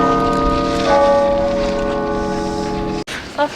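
Church bells in Helsinki in December ring out with a sustained, resonant tolling that hangs in the air, then the sound cuts off abruptly near the end.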